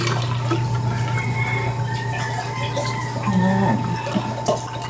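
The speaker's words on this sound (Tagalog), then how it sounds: "magpalagyan na po natin sila ng tubig" Water is poured into a home fish tank, a steady splashing, trickling wash that runs continuously at moderate loudness, with someone speaking briefly over it.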